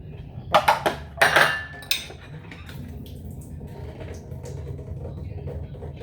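Dishes and cutlery clatter loudly in a few quick bursts close by, then the clinking fades into a quieter, lingering sound of water.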